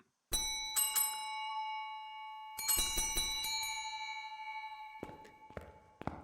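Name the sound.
bell ringing in video game Phasmophobia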